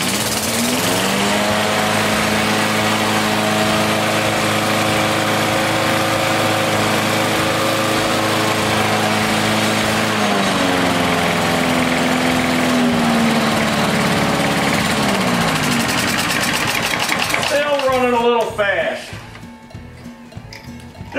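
An older Briggs & Stratton small engine with a bent crankshaft runs on a newly fitted carburetor, droning steadily with shifting pitch as it speeds up, then cutting out near the end.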